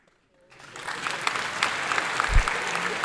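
Applause from a studio audience on an Italian talk show rises after a brief quiet start and continues steadily, dense and fairly close, with a low thump partway through and no voices.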